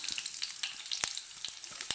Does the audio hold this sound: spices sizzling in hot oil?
yes